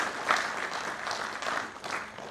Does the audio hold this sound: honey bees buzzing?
no